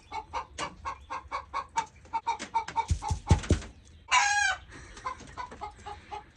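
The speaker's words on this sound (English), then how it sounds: "Waiting on a chicken to lay an egg." A hen clucks in a steady run of short, rhythmic calls, with a few sharper thumps midway and a brief louder squawk near the end, close and fairly quiet throughout.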